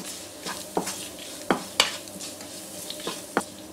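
Green chillies fry with half a teaspoon of turmeric in a pan for moru curry, a soft sizzle punctuated by irregular spatula scrapes and taps against the metal.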